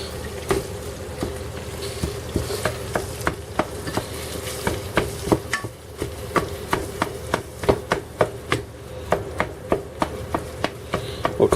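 A utensil chops beef into pieces in a stew pot, with steady rhythmic clacks about twice a second over a soft sizzle, close and moderately quiet.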